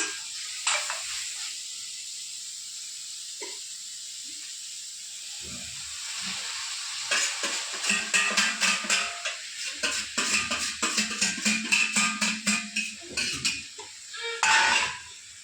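A hot pan hisses while a spoon scrapes and stirs chicken curry in quick rhythmic strokes, with a few metallic clinks.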